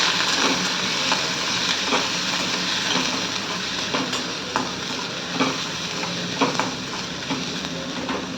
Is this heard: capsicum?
yes